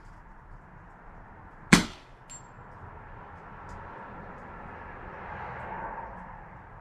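A single sharp crack from a Benjamin Maximus .177 caliber air rifle firing outdoors, followed by quiet background hum and a faint distant ring.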